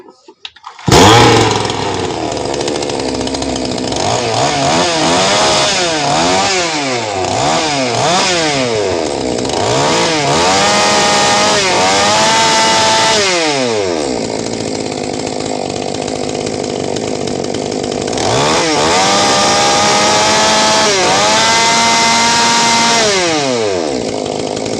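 A gasoline chainsaw with an oil pump problem starts and runs loud and close, its engine revving up and down in repeated surges between steady idling stretches.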